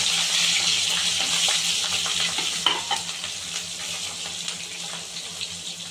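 Mustard seeds and green chillies fry in hot oil for a tempering, a loud close crackling sizzle with faint popping and some stirring, easing slightly toward the end, no talking.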